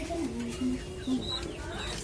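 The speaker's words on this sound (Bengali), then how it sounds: "এখন দেখতে পাচ্ছেন আমার এই যে হোয়াইট গোল্ডেন কবুতরের বাচ্চা" White golden pigeon chicks give short low coos and soft squeaks close by, with a few thin high chirps behind them.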